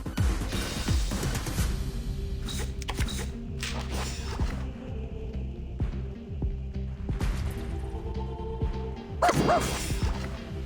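A puppy in the video game Reverse: 1999 yips and barks a few times over steady game music and effects.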